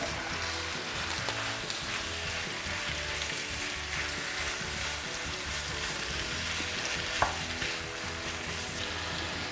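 Meat for homemade döner frying in a pan over the highest stove setting, a steady, dense sizzle throughout with occasional stirring scrapes and one brief clink near the end.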